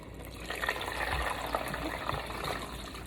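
Water kefir pours steadily through cheesecloth into a plastic strainer, a continuous close gushing, splashing flow with no talk.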